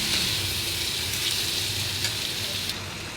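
Rice sautéed with vegetables in a pan for veg pulao, a steady close sizzle with stirring throughout, no speech.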